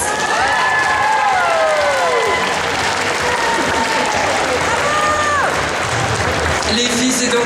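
An audience at a convention cosplay contest prize-giving applauds the winners: dense, loud, sustained clapping from a large crowd throughout, with an amplified host voice and a few whistles and cheers above it.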